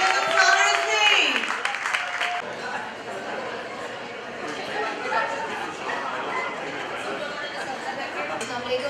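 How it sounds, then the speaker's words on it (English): An audience at a community women's association event breaks into applause. A voice speaks briefly at first, then steady clapping follows alongside loose crowd chatter until the end. "A big round of applause to the Geo TV Safir Pakistan and Sayyid Ansa"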